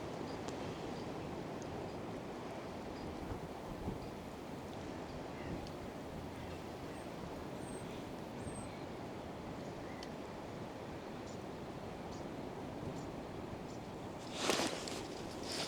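Wind blowing beside a tiny river while fishing, heard as a steady broad rushing noise buffeting the microphone throughout, with one brief louder gust near the end.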